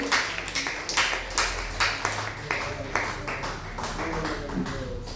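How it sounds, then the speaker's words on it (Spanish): A church congregation claps in a steady rhythm of sharp, evenly spaced beats during a lively worship service, with voices mixed in beneath. "Aplauda fuerte el nombre de Jesús."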